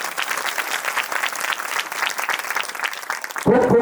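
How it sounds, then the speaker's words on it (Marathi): Loud, sustained applause from a crowd at a live bharud folk performance, dense clapping running steadily throughout before cutting abruptly near the end. "जोरदार टाळ्या."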